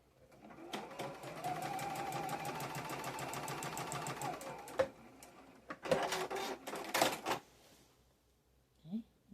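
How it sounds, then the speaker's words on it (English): A sewing machine stitches a quilt block along a drawn line, running in a steady continuous whir for about five seconds, then stopping, followed by a few short handling bursts and clicks close by. "you're going to draw a line and sew on that line"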